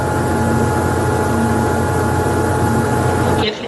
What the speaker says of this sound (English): That's somebody who's cleaning the floors. Yeah, sounds like a vacuum cleaner.